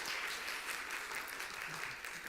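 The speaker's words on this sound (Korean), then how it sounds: "목사님과 성도님께 인사 힘찬 박수 부탁합니다." Church congregation clapping during a Sunday service, a dense, even burst of applause from many people held at a steady level throughout.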